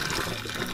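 Water pours and drains as Miracle Noodles are strained in a kitchen sink, a brief steady rush of liquid at close range with no talk.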